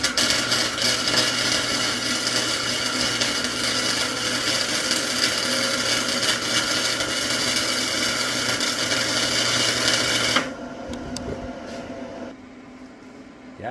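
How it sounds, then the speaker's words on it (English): Electric welding powered off-grid by solar: a steady, loud crackling buzz that runs unbroken for about ten seconds, then stops abruptly, leaving quieter background noise. "Did that not record that welding?"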